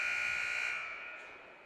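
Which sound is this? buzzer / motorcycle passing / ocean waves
buzzer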